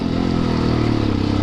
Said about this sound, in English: and the bike rips, my friends.